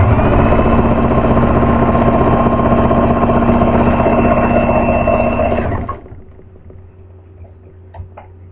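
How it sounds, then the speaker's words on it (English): A sewing machine zigzag-stitches along a raw fabric edge, a steady loud mechanical whir with fast even chatter running for about six seconds, then stopping abruptly into near silence with a faint click near the end. "you want to zigzag the edge because it will ravel down to the core"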